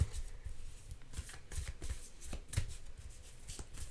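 Tarot cards being shuffled up close, a soft, continuous papery riffling and flicking with light hand rustles, quiet and steady throughout.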